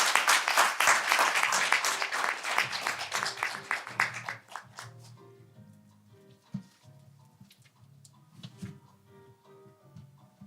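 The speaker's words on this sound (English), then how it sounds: "with a warm and greeting round of your applause" Loud audience applause at an international development conference, dense clapping for about four seconds before quickly thinning into scattered claps with music underneath.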